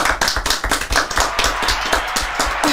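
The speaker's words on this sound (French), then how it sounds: "donc on l'applaudit quand même" An audience applauding, with loud, close, rapid overlapping claps forming a continuous rattling burst throughout.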